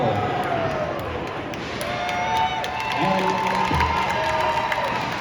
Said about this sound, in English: Oh, the crowd's very happy.